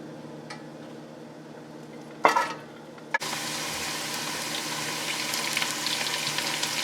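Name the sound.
onion frying and being stirred in a pan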